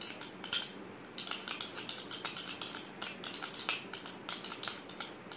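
A spoon stirs a homemade rose face pack mixture in a bowl, producing a quick, steady run of light clinking and scraping taps, close and fairly quiet.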